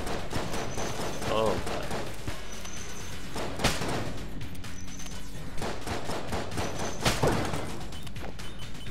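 Rapid gunfire from Enter the Gungeon, with bursts of sharp shots crackling throughout, some louder bangs standing out, under someone talking and exclaiming.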